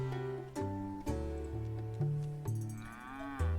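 Cows moo in the rhyming adventure game Milkmaid of the Milky Way, a run of long, low, tonal moos one after another at a moderate volume.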